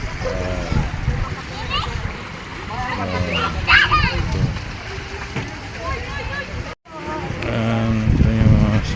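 Water splashing at an outdoor resort swimming pool in San Agustin, San Jose, Occidental Mindoro, amid lively chatter and children's voices, with a steady background hum and a brief dropout near the end.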